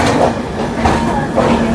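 A train pulling into Jammu Tawi railway station on the way to Kashmir, a steady low rumble of wheels on rails with a faint clatter, heard close and continuous with no talk.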